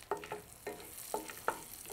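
Cinnamon, cardamom and star anise fry in butter for paneer butter masala, giving a faint, low sizzle broken by a few soft, separate stirring scrapes and taps.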